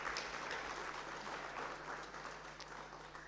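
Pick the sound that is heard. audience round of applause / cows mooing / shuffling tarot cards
audience round of applause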